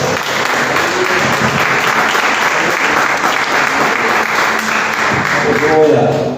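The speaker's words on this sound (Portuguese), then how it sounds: "Vamos dar um aplauso ao Senhor Jesus." Church congregation at a family worship service giving sustained, loud applause for several seconds, with a voice speaking over the clapping near the end.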